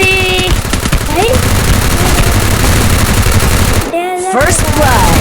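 Rapid automatic fire from a UMP submachine gun in the Free Fire mobile game, a dense continuous stream of shots with layered game effects and a brief gap near the end before firing resumes.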